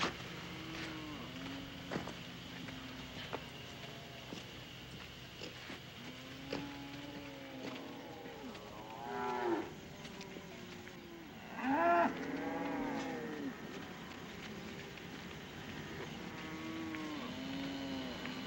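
Cattle moo several times at a ranch, with a couple of louder, drawn-out calls standing out over a quiet outdoor background.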